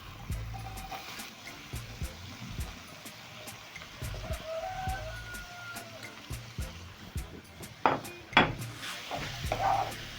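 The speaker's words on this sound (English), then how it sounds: "you're going to stir in continuously until the cabbage is soft and crunchy" Cabbage and onions stirred in a pan with a utensil, giving soft scraping and clinking against the pan under a faint sizzle, with a few louder clanks near the end.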